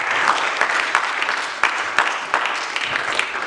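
A church congregation applauding for the Lord: steady, dense clapping from a crowd in a hall, sustained throughout with a few sharper accents.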